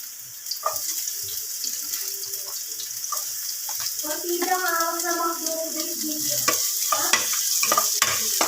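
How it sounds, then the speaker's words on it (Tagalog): Ginger and garlic sauté in a pan for a squid and vegetable dish, giving a continuous sizzle with stirring scrapes and clatter, while a voice is briefly heard midway. "Igisa natin ng luya. Sunod ang bawang."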